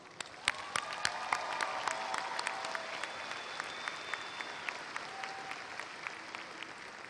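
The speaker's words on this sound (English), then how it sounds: "let's give those great graduates a big applause" A crowd at a university commencement applauds graduates in steady, sustained clapping with sharper individual claps standing out, heard from a little distance and continuing throughout.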